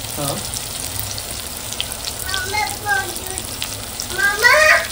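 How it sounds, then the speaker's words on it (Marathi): Spice masala with garlic paste fries in hot oil for Malvani prawn rice, giving a steady close sizzle with occasional stirring while people talk over it. "मस्त मसाला असं छानपैकी भाजून घ्यायचा तेलामध्ये"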